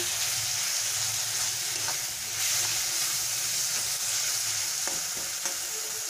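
Tomatoes cooking down in a pan over a low flame while preparing a tilapia curry, a steady soft sizzle and hiss with occasional stirring scrapes, close and continuous, no talking.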